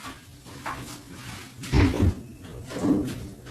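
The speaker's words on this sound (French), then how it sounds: "j'ouvre la porte au chat" House door opened to let a cat in, several soft knocks and a handling thud with a louder bump midway, close and intermittent in a quiet room.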